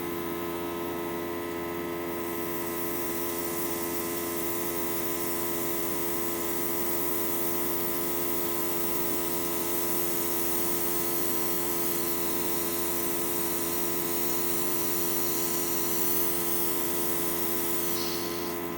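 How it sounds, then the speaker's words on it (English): Airbrush spraying Fantasy Black paint over a stencil on hair gives a steady, even hiss with a constant compressor hum underneath, running unbroken throughout. "what I'm going to do is basically airbrush that with Fantasy Black"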